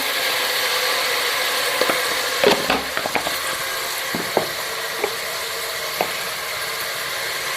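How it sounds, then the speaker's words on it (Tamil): Tomatoes and onions sizzle steadily in a hot pan while a utensil scrapes and clinks against it in a few irregular stirring strokes. "இந்த மாதிரி கிளறி விட்டுக்கலாம்"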